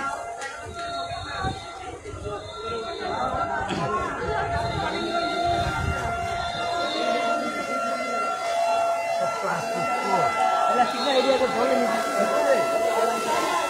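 A fire engine siren wails steadily at a five-storey building fire beside the Shewrapara metro station in Dhaka, sounding at moderate distance under excited crowd chatter and nearby talking.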